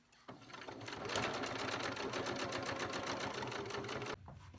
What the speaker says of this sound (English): So I'm gonna go ahead and just sew around the perimeter of this Velcro.